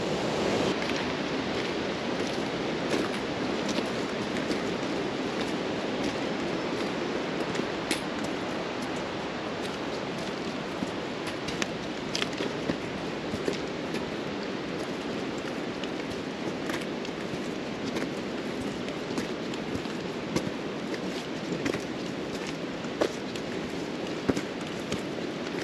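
Water rushing down a mountainside in a steady, broadband roar, constant and moderately distant, with no voices.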